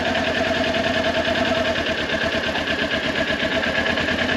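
Motorcycle engine at low revs as the clutch is eased through the friction zone with no throttle, a steady close mid-pitched thrumming pulse heard alone.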